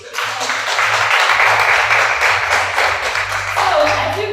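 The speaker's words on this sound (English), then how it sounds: "for that, we all deserve a round of applause" An audience at a student government induction ceremony claps in a dense, steady burst of applause lasting several seconds, loud and close.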